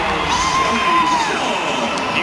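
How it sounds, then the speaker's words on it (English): An arena crowd at the 2014 WNBA All-Star Game cheers and whoops for Shoni Schimmel, a broad roar heard under a commentator's voice. "You can hear the reaction from the crowd"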